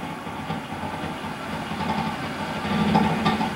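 Electric motor of a converted BMW 320i spinning up to speed, a low steady whir with a faint tonal whine that gradually grows louder, heard close with no talk.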